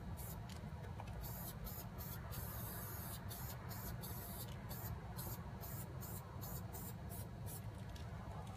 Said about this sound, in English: good control with the spray can